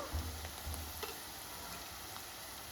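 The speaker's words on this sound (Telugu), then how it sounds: "ఈ పోపు ఏగుతుంది కదండి ఏగేటప్పుడు" Faint, steady sizzling of a tempering of onion and green chilli pieces frying in hot oil, with a few soft low thumps near the start.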